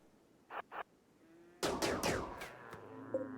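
Gunfire in RimWorld aimed at a Mega Sloth: a few distinct shots crack out in a quick cluster, loud and close, after two short, softer game sounds at the start. No one speaks.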